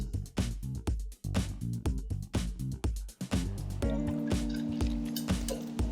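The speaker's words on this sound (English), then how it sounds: "Just pour this over the largest bit of ice you can find." A cocktail poured over a large piece of ice in a glass, with a series of sharp clinks and taps followed by a steady trickle of liquid, close and clear with no talk.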